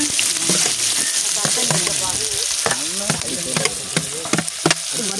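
Green chilies, onions and curry leaves fry in a pan, a loud continuous close sizzle broken by repeated stirring scrapes, with no talking over it.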